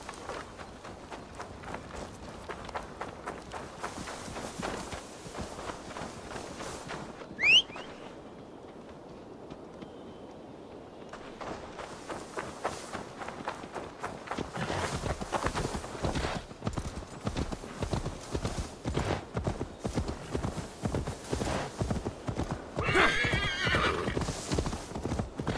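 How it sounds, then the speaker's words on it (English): In the video game Assassin's Creed Valhalla, hooves clip-clop in a fast, steady rhythm as a horse gallops, with a sharp whinny partway through and a brief quieter stretch before the pace picks up again. "Now to deliver Magni his horse"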